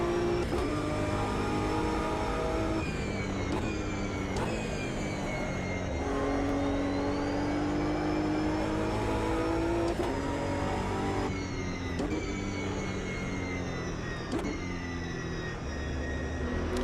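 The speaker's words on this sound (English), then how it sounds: "the cars in this, at least the ones that I've tried, sound really good" Race car engines rev hard and steadily in the Automobilista 2 sim racing game, pitch climbing and dropping sharply with repeated gear shifts, loud and continuous with no talk.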